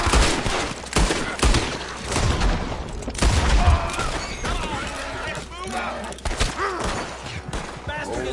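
Gunfire rings out in a Red Dead Redemption chase, sharp shots and scattered bursts crackling through the scene while voices shout and talk over much of it.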